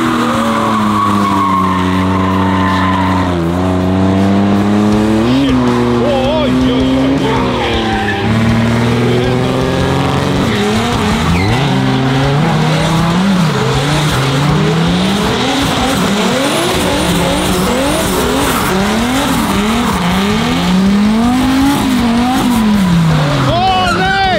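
Cars doing burnouts at a gathering, with loud, sustained tire squeals and skidding that rise and fall in waves over roaring engines. Crowd noise runs throughout.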